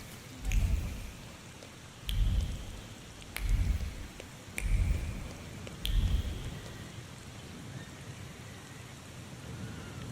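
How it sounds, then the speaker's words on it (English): Rain falls as a soft hiss in The Thaumaturge, set in Warsaw, with five heavy low rumbling bursts about every second and a half and a few sharp clicks over the top. "Oh, it's now raining."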